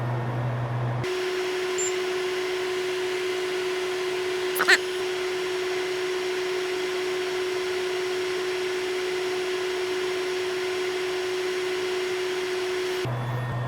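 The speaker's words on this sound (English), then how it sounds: "Alright, we turn off our fume extractor" A fume extractor fan hums steadily beside a MacBook A1286 logic board during soldering, a constant close whir with one brief tick partway through, starting and stopping abruptly at either end.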